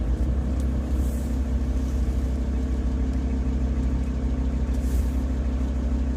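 A VW T4 camper van's engine running at low speed while reversing into a parking spot: a steady, close, rumbling mid-low drone with little change in level throughout.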